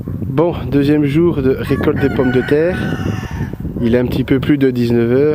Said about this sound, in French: on entend le coq qui chante.